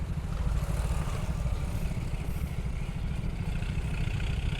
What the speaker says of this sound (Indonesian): Nah, ini ada traktor. Tadi sudah dikasih tahu, makanya saya minggir dulu ini.